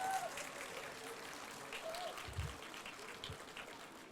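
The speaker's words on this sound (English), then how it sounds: "Let's give all of them a big round of applause." Faint, distant applause from an audience at a student care centre's tenth anniversary event, a soft continuous patter with light background murmur.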